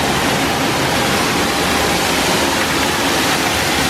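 A steady, full-bodied rush of falling water from an indoor waterfall inside a large resort hotel atrium, continuous and fairly loud with no pauses or voices.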